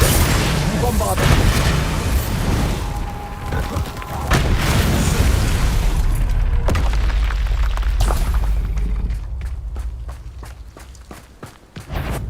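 Bombarda spell explosions in Hogwarts Legacy, a series of deep booming blasts mixed with scuffling footsteps and combat noise, followed by a run of sharp crackling bursts, loud and close.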